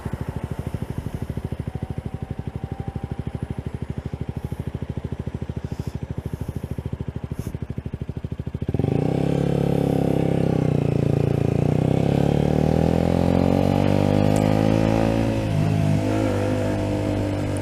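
A motorcycle engine runs at a steady, throbbing idle for several seconds, then is revved up to a louder, sustained higher-pitched roar that holds and wavers near the microphone.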